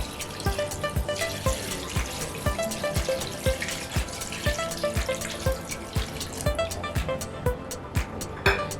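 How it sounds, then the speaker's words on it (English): Water runs into a cooking pot of Nigerian oha soup, topped to the level of the protein, with a quick, rhythmic splashing patter and light metallic clinks, fairly quiet and close. "So we're going to be topping water to the level of the protein."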